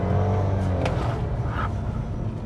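Fiat Fastback Turbo 200 Hybrid, an SUV coupe, accelerating hard from first gear in sport mode, a steady low engine drone held loud and close throughout, with no talk over it.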